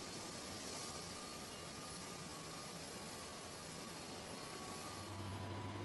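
Airliner engines drone faintly and steadily as the plane gets ready to depart, an even distant rush that holds unchanged throughout.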